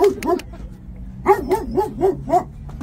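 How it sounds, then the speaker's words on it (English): A young dog barks in a quick run of five or six close, loud yelps after a couple of earlier barks, with no talk over them. "one of our subscribers, folks, has got a dog as well coming in"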